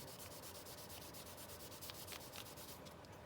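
Ink is rubbed over decorative sticky tape in a steady run of close, scratchy strokes, a dry sanding-like friction that carries on without a break and with no talk.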